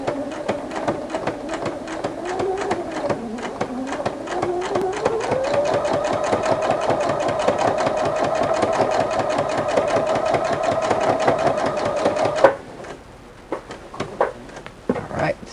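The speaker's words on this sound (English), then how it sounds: "This fabric satin is a little bit ravelly, so go ahead and ruffle, lower your foot every 6 stitches." A Husqvarna Viking sewing machine with a ruffler attachment gathers ravelly satin, its needle running in a steady, fast mechanical chatter for about twelve seconds before stopping, followed by a few quiet clicks.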